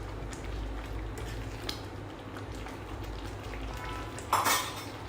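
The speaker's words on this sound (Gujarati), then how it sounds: "પ્રોપરલી મિક્સ કરી લઈશું આપણે." Dal khichdi stirred in a pot over a low steady simmer, with soft scraping strokes and one louder clatter near the end, close and continuous.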